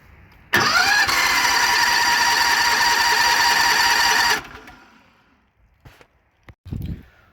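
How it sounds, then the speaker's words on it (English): A small Honda petrol engine on a pressure washer, with a suspected failed fuel pump, cranks on full choke and catches, roaring loudly and steadily for several seconds before cutting out, followed by a few faint clicks and knocks. "So engine does start."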